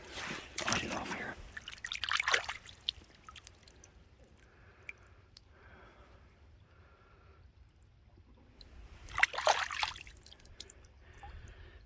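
Water sloshing and dripping as something is rinsed in a shallow creek in the Mammoth Cave area, with splashy bursts at the start and again near the end and soft trickling between, heard up close and fairly quiet.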